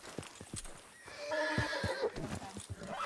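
A horse whinnies loudly in the middle of the clip, with sharp clip-clop hoofbeats on hard ground before and after, close by and without talk.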